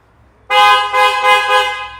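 An aftermarket Hella horn fitted to a Tata Safari blares loud and close, sounding in three quick pulses over about a second and a half after a near-silent start.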